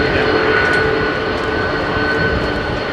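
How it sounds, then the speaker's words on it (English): A steady, loud jet engine roar of an airliner departing runway 27R at London Heathrow Airport fills the whole stretch, a broad continuous rumble with a faint whine on top. "God, I love the sound of that aeroplane."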